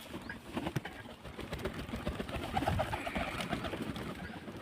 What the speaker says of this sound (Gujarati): હા તો આપણે જો અહીંયા ભાત નાખી દઈએ હવે કબૂતર માટે